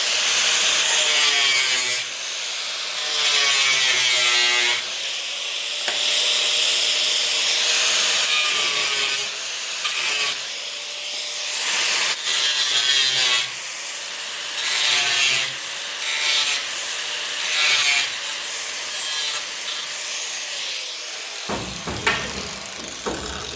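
A rusted section is cut out of a square-body Chevy firewall with a tool, giving repeated rasping strokes in bursts with short pauses, loud and close, followed by a clatter near the end.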